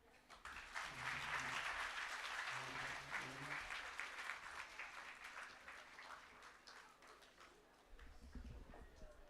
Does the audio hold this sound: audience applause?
yes